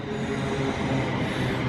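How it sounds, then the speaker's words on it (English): A train arrives at a station as a dense, continuous rumble, loud and unbroken throughout with no distinct clanks or horn. "Another train in."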